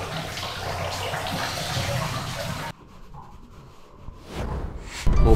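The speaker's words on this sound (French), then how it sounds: "La petite douche qui fait plaisir." A shower runs in an apartment bathroom with a steady, loud hiss of spraying water that stops abruptly partway through, followed by quieter drips and handling noises.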